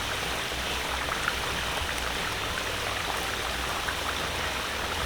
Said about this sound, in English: I could hear it sizzling, like water evaporating from it.